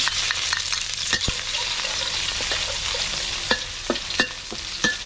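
Chili and garlic sizzle steadily in hot oil while a utensil stirs and scrapes through them, giving a dense frying hiss broken by sharp clicks and taps, close up and without talk.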